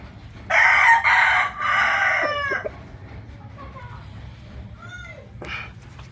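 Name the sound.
bulik rooster crowing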